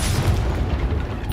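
A Confringo spell blast in the Hogwarts Legacy game: a short, loud, rumbling boom that fills the whole moment with low, heavy energy and no talking.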